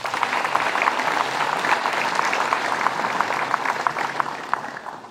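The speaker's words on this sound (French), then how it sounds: "vous pouvez l'applaudir." A room of listeners claps for a presenter after a sports coaching talk, a continuous lively round of applause with crisp individual claps standing out, fairly loud and with no talk over it.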